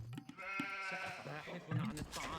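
Sheep bleating in the video game Age of Empires II, a few short wavering bleats in quick succession over a brief cluttered game soundscape, fairly faint overall.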